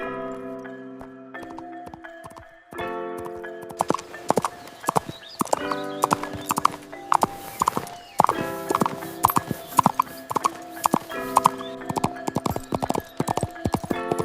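A white horse's hooves clatter in quick, sharp, close beats, getting denser as it gallops, over sustained musical tones.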